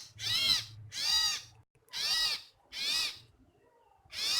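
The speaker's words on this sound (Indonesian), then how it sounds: "Seperti ini burungnya guys, burung sirtu atau cipo." A captive female sirtu, also called cipo, bird gives a series of five harsh, raspy calls close by, each lasting about half a second with short pauses between.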